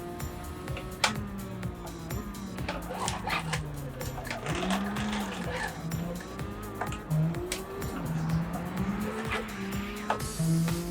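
A BMW Z4 race car in the video game Gran Turismo 7 revs through its gears, the engine note rising and dropping with each shift, joined by bursts of tire squeal.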